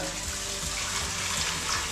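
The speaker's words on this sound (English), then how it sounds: "find the bathroom and fill up the sink with water" Water runs steadily from a tap into a large bathroom sink, a continuous close gushing rush that stays even throughout with no voices.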